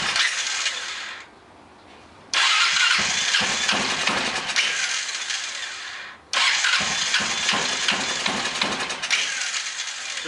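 An engine cranks repeatedly with the choke held and the key on but fails to catch, giving two long stretches of loud grinding starter churn separated by brief pauses.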